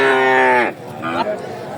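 A cow at a cattle market gives a loud, close, drawn-out moo that fades into low market noise and a brief second call.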